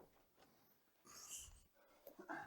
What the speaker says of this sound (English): Do you hear that? That's the dog.